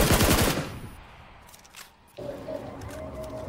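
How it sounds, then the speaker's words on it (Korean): A loud rapid burst of automatic gunfire in PUBG on Xbox One opens the moment, then drops to quiet game ambience and a faint steady electronic tone. "뭐야 누가 쏜다"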